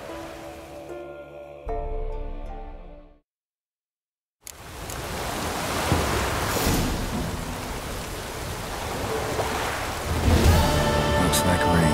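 Rain and thunder in the video game The Witcher 3 form a steady, loud wash of falling rain with low rumbles after a moment of silence, and game music and voices sound earlier on.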